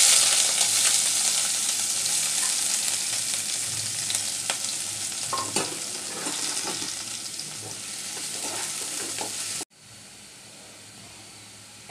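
Chopped ginger, garlic, onion and green chillies fry in hot oil with a loud, continuous sizzle and scattered crackles, then cut off abruptly to a quieter hiss near the end.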